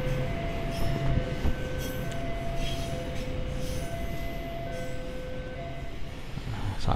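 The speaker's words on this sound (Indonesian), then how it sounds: "Dan ini ada kereta dari arah stasiun Solo Balapan menuju ke arah Semarang." A train passes on the line from Solo Balapan station toward Semarang, its wheels rumbling steadily with sustained metallic squealing tones near a construction site, and no speech.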